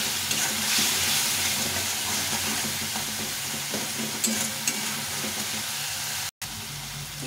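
Masala with a splash of water sautés in a pan while it is stirred, for a thin mustard fish curry. A soft, continuous sizzle runs under occasional utensil scrapes, then cuts off abruptly near the end.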